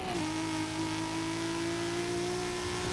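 Audi fitted with a racing 3-liter 2JZ engine accelerating in Forza Horizon 5, a loud sustained engine note that dips briefly and then climbs steadily in pitch, heard alone and close.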